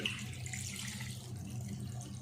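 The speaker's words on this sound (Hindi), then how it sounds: "इसमें आधा लीटर ही हम पानी डालेंगे" Water runs in a steady stream into a karahi holding bone-in mutton, a short, continuous splashing pour close by.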